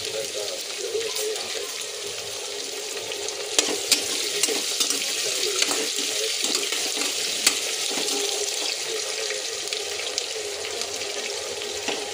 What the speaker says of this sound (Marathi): हा खडा मसाला पण टाकला. त्याच्यात आपण कांदा घालूया.